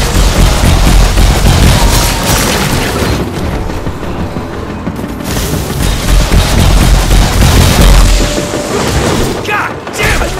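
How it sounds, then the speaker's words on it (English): Shotgun blasts and booming combat in the video game Evil West, loud and dense, with repeated heavy bursts and crashes filling the clip while a voice talks over parts of it. "Remember, we got a shotgun."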